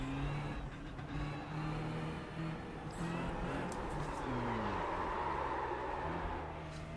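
A race car engine in the iRacing or LMU sim racing game drones at steady load, its pitch rising and falling between shifts, loud and continuous with no voices.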